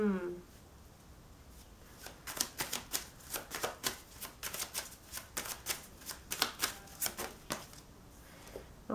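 Tarot cards are shuffled by hand in a quick run of crisp, rhythmic riffling slaps, close and fairly quiet, continuing for several seconds after a brief voice at the start.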